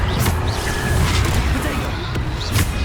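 Booming explosion spells cast in the video game Hogwarts Legacy, several heavy blasts and crashes layered over dense battle noise, with a voice speaking intermittently.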